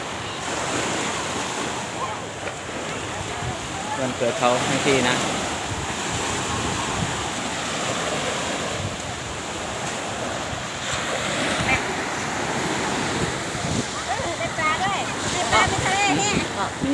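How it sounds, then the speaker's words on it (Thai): Sea waves at Cha-am beach in Phetchaburi, a constant washing surf mixed with wind buffeting the microphone, with voices talking over it throughout. "บรรยากาศ ของทะเลครับผม"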